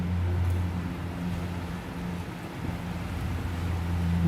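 Strong wind roars steadily outdoors and bends the trees, a continuous low rushing buffet with heavy microphone wind noise and gusts that rise and fall.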